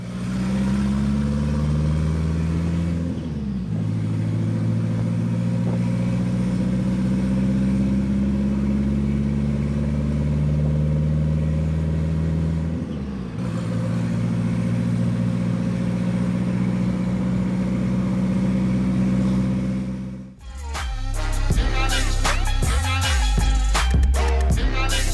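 A Volkswagen Polo Turbo with nitro accelerates hard, its engine droning loudly and climbing in pitch through two gear changes before a sudden burst at the end, close and continuous with no talking.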